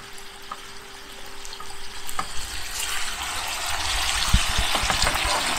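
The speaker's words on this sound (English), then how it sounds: "you can see you've got all those juices sizzling in there" A steady sizzle and crackle of mackerel juices frying in a pan, hissing softly and growing a little louder, with a few light clinks.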